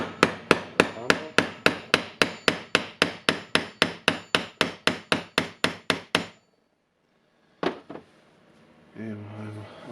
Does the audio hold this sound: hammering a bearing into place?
yes